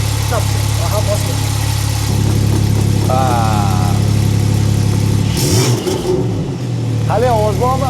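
A Nissan GT-R Carbon Edition engine runs close by with a steady low drone, then rises in a brief rev around the middle before settling back, while people talk and chatter over it throughout.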